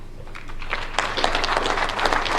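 Audience clapping breaks out at an International Women's Day event, a short burst of applause that builds quickly from a scattered start into steady clapping.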